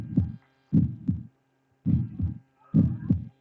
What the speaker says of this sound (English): It's the full count heartbeat.